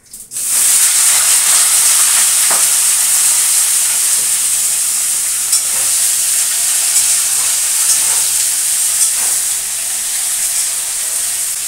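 Vegetables dropped into hot oil tempered with black cumin seeds, a loud continuous sizzling hiss that flares at the start and holds steady, with faint clinks and no talk.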